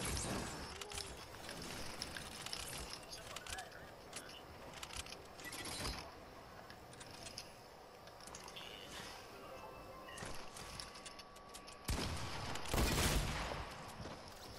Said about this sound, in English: My hunting rifle shot at your shoulder